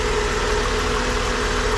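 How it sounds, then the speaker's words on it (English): A 1993 Mercedes-Benz 190E 2.6 engine idles smoothly, a steady, even mechanical hum heard up close with no voices over it. "Motor runs nice and smooth."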